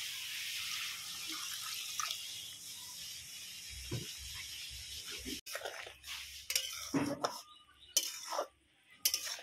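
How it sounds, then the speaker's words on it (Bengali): Water is splashed into a pan while chili paneer cooks in a home kitchen. It gives a faint, brief pour and trickle with a few clinks, and a voice speaks softly nearby. "একটু জল দিয়ে দেবো।"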